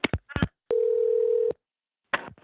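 A telephone dial tone follows a hung-up call: one steady, loud tone lasting under a second, with short clicky handset bursts just before and after it.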